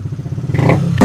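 A Suzuki Raider motorcycle engine rumbles close and loud, then surges into a sharp rev at the end of a short burst.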